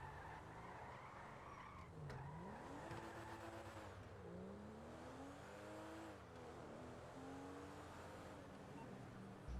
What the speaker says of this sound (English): You get another sports car all for yourself.